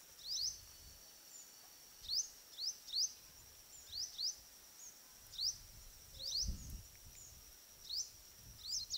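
Indian robin calling outdoors, a series of short, bright, sharply rising chirps repeated about a dozen times in small clusters, moderately close over a quiet background with faint low rumbles.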